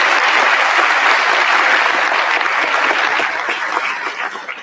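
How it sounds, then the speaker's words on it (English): A conference keynote audience breaks into loud, dense applause, a full roomful of clapping that stays strong and steady before tapering slightly toward the end. "Can we give them a big round of applause for that?"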